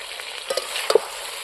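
Chicken leg masala curry frying in oil in a pan, with soft continuous sizzling and a few brief stirring scrapes, heard close and alone without talk.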